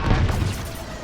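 A bomb explodes in the space combat game Star Wars: Squadrons, a dense rumbling boom with heavy low-end weight that holds steady for about a second, loud and close.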